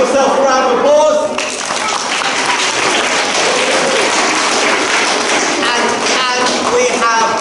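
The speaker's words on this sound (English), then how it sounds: "Give yourself a round of applause." A school assembly audience of children claps in a dense, steady burst of applause for nearly the whole stretch, with voices and chatter mixed in throughout.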